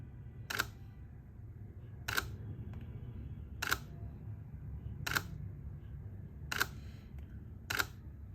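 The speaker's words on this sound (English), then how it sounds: "So let me start taking some pictures slowly with the shutter release cable." A camera shutter fired by a release cable while focus-stacking close-ups of a flower, six crisp separate clicks spaced about one and a half seconds apart over a low steady hum, with no talking.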